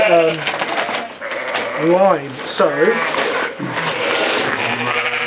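Sheep in lambing pens on a farm let out a few wavering bleats, two clear ones near the middle, close by while a person talks throughout.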